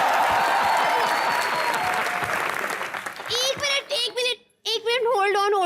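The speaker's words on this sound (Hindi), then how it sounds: "जोरदार तालियां मिकी मार्टिन के लिए।" Studio audience on a Hindi TV comedy show, Comedy Nights With Kapil, clapping loudly and steadily for about three seconds, then thinning out as voices break in and talk over the fading applause.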